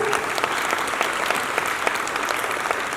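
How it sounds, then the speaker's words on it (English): A loud, dense round of audience applause at a school stage performance fills the space steadily and continuously, with many hands clapping together and no gaps. "A loud round of applause"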